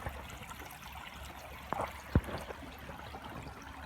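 A stream flows steadily outdoors, a continuous soft wash of water with a couple of small splashes or knocks near the middle.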